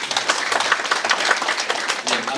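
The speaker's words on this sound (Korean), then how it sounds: "박수 한번 주십시오" A short burst of audience clapping at a Korean community meeting during a mayor's neighborhood visit, brisk and fairly close, filling the whole moment.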